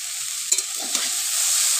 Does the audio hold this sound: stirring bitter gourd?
yes